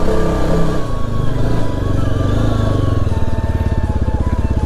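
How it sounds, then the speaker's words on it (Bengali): A Yezdi motorcycle climbs a mountain road in Sikkim, its engine droning loudly and steadily and settling into a rapid, even thumping toward the end, heard close with no speech. "তো এই হচ্ছে বাইক তুলছি আমি"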